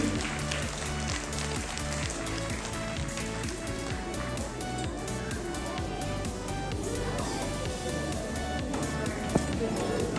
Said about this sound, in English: Let's give a round of applause to our kindergarten teachers who work hard every day.